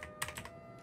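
Quiet clicking of a computer keyboard as someone types code, with a few quick keystrokes in an uneven burst followed by a pause and one more tap.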